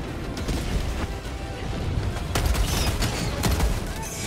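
Breaker Incendiary shotgun blasts in Helldivers 2, loud booming shots repeating at a fairly quick pace over a dense roar of battle noise.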